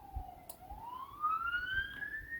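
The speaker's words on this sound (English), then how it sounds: "sirens, appropriate." A distant siren wails, dipping then rising steadily in pitch, faint over low background rumble.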